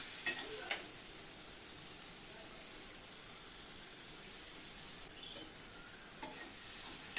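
Almond paste with ground cumin and green chili frying in a pan, a quiet steady hiss and sizzle with a few light stirring clicks, faint and close, no talk.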